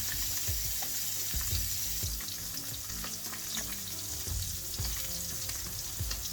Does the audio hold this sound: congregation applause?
no